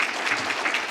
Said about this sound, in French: Merci Bertrand, on peut vous applaudir, évidemment.